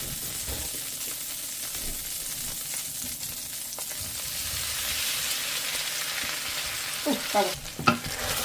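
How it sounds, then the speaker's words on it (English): Tteokbokki rice cakes frying in a pan with sesame oil, a steady close sizzle with stirring scrapes that swells slightly, ending with a few sharper clacks of the utensil. "Now we're gonna fry the tteokbokki."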